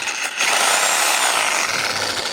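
A power saw, apparently a sabre saw, cuts through wood in one loud, steady, harsh buzzing run, close up with no talking.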